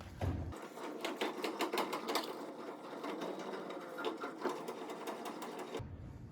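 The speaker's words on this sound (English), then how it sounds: "now we are going to crank this to the left or counterclockwise to lower it" A Nissan Frontier's underbody spare tire winch being cranked counterclockwise to lower the tire, giving a fast, steady mechanical clicking and ratcheting that runs continuously for several seconds up close, with no talking.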